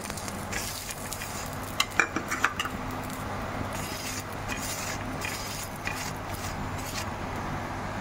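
An aloo paratha roasts in oil on a pan, with a soft, steady sizzle and a few clinking, scraping taps of a utensil as the flatbread is turned.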